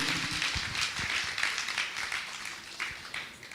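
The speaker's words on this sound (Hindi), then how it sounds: "जोरदार तालियों से उनका भी स्वागत करेंगे।" An audience welcoming trustees breaks into dense, continuous clapping, a crowded patter of many hands sustained throughout at moderate volume.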